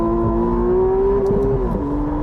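McLaren Artura Spider hybrid sports car engine revs, a steady, loud mechanical drone holding a strong tonal whine that rises slightly then dips near the end, close and continuous with no talking.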